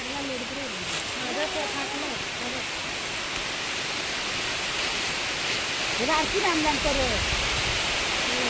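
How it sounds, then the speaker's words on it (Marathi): Heavy rain pours over rice paddy fields in Konkan during planting season, a loud, dense, continuous roar, while people talk intermittently over it. "वाव किती मस्त जोरदार पाऊस आलाय"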